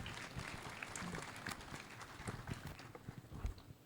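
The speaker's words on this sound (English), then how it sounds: "Big applause." An audience at a panel event claps. The applause is faint and distant, with scattered irregular claps and a little crowd murmur.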